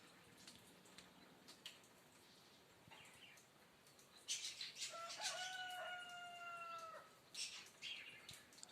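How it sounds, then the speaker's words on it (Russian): A rooster crows in the distance on a quiet village morning, one drawn-out cock-a-doodle-doo rising over faint chirps and clucks, fairly soft against the stillness. "Слышите петуха?"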